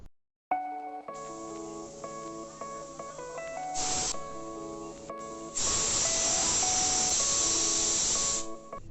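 A pressure cooker boiling moong dal lets out a short hissing burst, then a longer, steady, loud whistle of escaping steam lasting about three seconds, with background music playing throughout.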